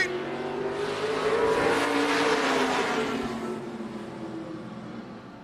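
Grand American Modified race cars roaring off together at a race start on an oval speedway, a loud layered engine drone that swells and rises in pitch, then slowly recedes into the distance.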